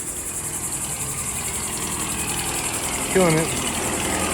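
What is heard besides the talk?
leaf blower running outdoors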